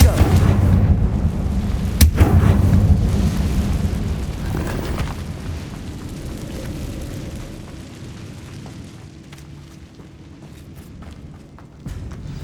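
A Confringo blasting spell explosion in the video game Hogwarts Legacy: a sharp, loud boom that rumbles and slowly fades over several seconds, with a smaller thud afterwards.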